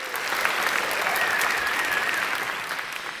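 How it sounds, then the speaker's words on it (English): Steady round of applause from an audience at a Hall of Fame induction event, honoring an athletic director; dense, continuous clapping throughout with no voices, fading slightly at the end. "You can give him a round of applause"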